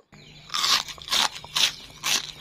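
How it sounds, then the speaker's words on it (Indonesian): Four loud, close crunchy bites into a crispy, crunchy fried banana snack, each a sharp burst of crackling with brief pauses between, and no talking. "rasanya enak banget dan teksturnya itu renyah dan juga garing"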